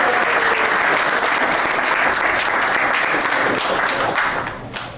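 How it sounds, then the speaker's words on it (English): A big round of applause from a Homeboy Industries morning gathering audience, dense steady clapping filling the room for several seconds before tapering off near the end. "so let's give him a big round of applause"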